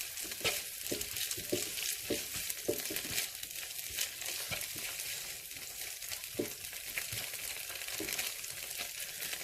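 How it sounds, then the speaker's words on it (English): Ginger and garlic paste being stirred in a frying pan for a vegan tofu biryani sizzles continuously, with repeated scraping strokes of the utensil at an irregular, fairly quick rhythm. "I will be adding in my ginger and garlic paste. And I will stir that in."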